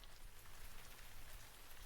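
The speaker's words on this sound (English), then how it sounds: "It's just the rain." Soft rain taps in a continuous fine patter, quiet and even, with no voices.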